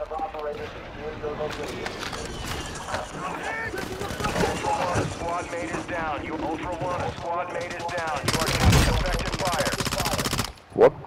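Video game gunfire crackles in repeated bursts amid busy battle sounds and chattering game voices, swelling louder near the end.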